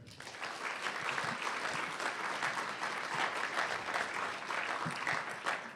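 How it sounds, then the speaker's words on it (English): Audience applause for the finalists of a local business competition, a continuous wash of many hands clapping at moderate level, steady throughout with no talking over it. "And let's give them one more round of applause for making it this far."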